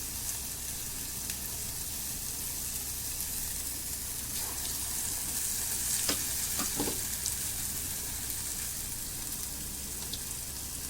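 Vada batter deep-frying in hot oil: a dense, steady sizzle runs throughout, with a few brief clinks and scrapes near the middle and no voices.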